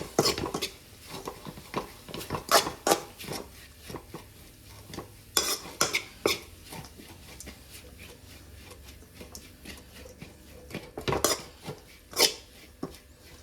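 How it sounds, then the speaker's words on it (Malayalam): Egg thoran being stirred in a pan: a spoon scrapes and clanks against the metal in irregular bursts, with a faint sizzle underneath and no talking. "ഇതിൻ്റെ മെയിൻ പരിപാടി എന്ന് പറയുന്നത് ഇതുപോലെ ഇങ്ങനെ ഇളക്കി കൊടുക്കുന്നതാണ്"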